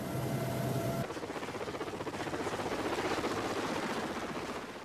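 A helicopter's rotor gives a close, steady thudding chop with a rhythmic beat that carries on after a brief engine whine at the start.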